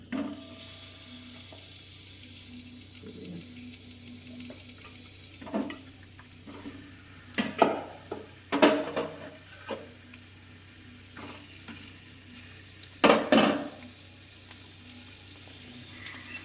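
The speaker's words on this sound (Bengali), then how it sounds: "পটলগুলো ভাজছি" Pointed gourd (potol) pieces fry in hot oil with a soft, quiet sizzle, broken by a few sharp clatters and stirring sounds.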